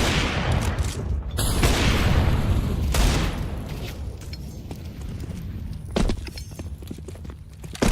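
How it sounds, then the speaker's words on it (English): A thrown grenade explodes in a video game as a deep, loud blast amid dense, rumbling gunfire, with further sharp bangs and booms breaking through the continuous battle noise. "Throwing a grenade."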